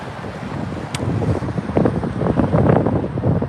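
Steady wind buffeting the microphone, a broadband rumble that swells and gusts louder in the second half, with no voices.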